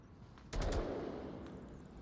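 Suppressive gunfire in the VR shooter Onward, a quick burst of three or four sharp shots close together, then a lingering rumbling echo and room noise.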